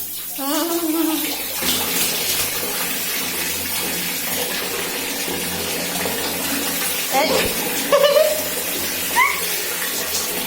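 Water gushing steadily from a tap during a child's bath, with a voice and brief speech heard over the flow.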